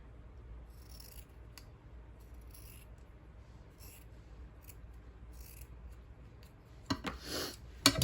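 Scissors snipping in short, quiet bursts, several separate cuts spaced irregularly against near silence, ending with a louder rustle of handling.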